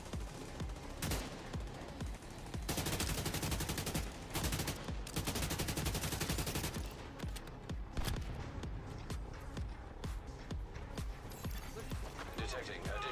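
Rapid bursts of AK rifle gunfire in The Division 2, dense repeated shots loud and close, mixed with game sounds and a voice talking over the action.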